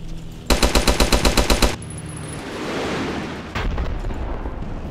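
Machine-gun fire in Battlefield 1942, Egypt map with tanks: a rapid, loud burst of about a dozen evenly spaced shots, then a rumbling roar and further distant gunfire.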